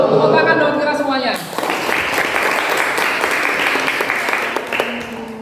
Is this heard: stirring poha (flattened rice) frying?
no